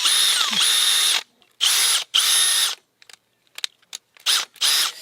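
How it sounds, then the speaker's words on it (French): Cordless drill-driver fitted with two large batteries, light but powerful, running in several high-pitched whirring bursts of about a second each, with speed changes and short blips between them, loud and close with no talk. "Non, c'est une perceuse visseuse, je crois."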